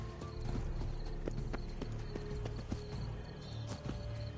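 Horse hooves clip-clop in a steady, rhythmic walk inside a PS4 video game, the evenly spaced hoofbeats sitting over a continuous low ambient game soundscape.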